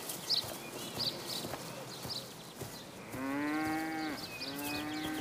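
Cattle on a German farm, with one cow letting out a long, loud low moo followed by a second shorter moo, close by over faint background clatter and shuffling.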